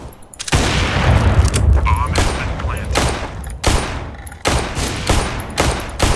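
In Counter-Strike on Dust II, loud bursts of gunfire crack out again and again, each volley separated by short gaps, close and forceful, with possible talk faintly underneath.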